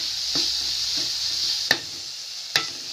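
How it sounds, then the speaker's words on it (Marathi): Tomatoes sauté in a pan for daal khichadi, a steady sizzle with soft stirring scrapes and two sharp utensil clinks against the pan. "आता टोमॅटो थोडासा मऊ सॉफ्ट होईपर्यंत परतून घ्यायचा व्यवस्थित"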